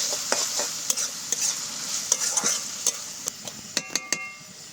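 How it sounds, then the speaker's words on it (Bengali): Ginger, garlic and green chili paste stirred into fried onions in a pan for chicken do pyaza: a soft sizzle broken by sharp, irregular spatula clicks and scrapes against the metal. "আদা রসুনের কাঁচা গন্ধটা যাওয়া অবধি একটু নেড়ে চেড়ে নেব"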